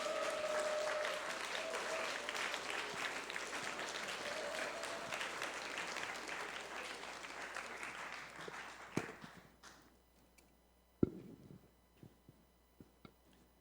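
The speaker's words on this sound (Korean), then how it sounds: "박수 한 번 부탁드립니다" Audience applause at a summer church retreat talk show, a dense, steady clapping that thins and fades after about eight seconds, leaving a few scattered, isolated claps and quiet room noise.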